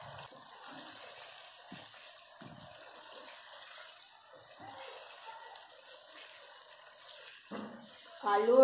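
Water is poured into a cooking pot of browned chicken and potatoes for chicken potato shorba, a low gushing splash that swells near the end over faint kitchen noise.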